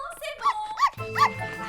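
A dog in an animated show gives a few short yips and barks, sharp and close, with a voice talking over them partway through.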